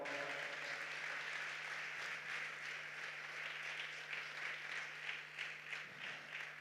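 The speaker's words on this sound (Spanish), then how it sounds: "De ese aplauso de alabanza al Señor." A church congregation applauds in praise of the Lord during a Sunday service, a sustained wash of many hands clapping that swells and dips slightly and carries on without a break.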